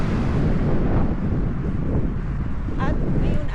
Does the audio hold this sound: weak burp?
no